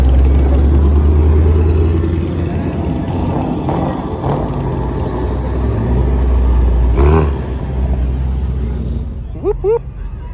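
Car accelerating past at a Mustang Week car meet, engine rising and falling in a broad roar before dropping away, with people talking nearby.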